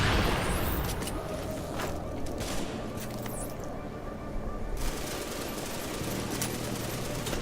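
Gunfire from weapons in The Division on hard mode at the Broadway Emporium, a dense, continuous wash of shots and bursts running steadily throughout, with no voices.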